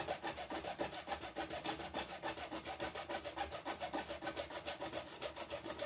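A hand saw cuts through plastic lubricated with water and a few drops of dish soap, making a steady rhythmic rasping back-and-forth stroke, close and moderately quiet, with no voices.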